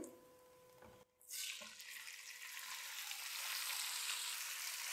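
Chicken pieces drop into a pan of hot oil crackling with green cardamom, cloves and cumin, sending up a sudden loud, steady sizzle that builds and holds close by, with no voices.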